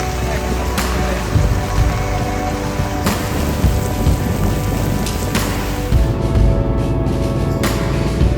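Heavy rain pours steadily during a rainstorm at the Manjuyod sandbar in the Philippines, a dense continuous hiss with brief louder gusts and low rumbling underneath, with no talk.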